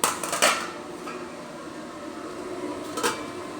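A lid is set on a cooking pot of laham kabsa with a close metallic clatter, a low steady kitchen hum follows, then one more brief clink near the end.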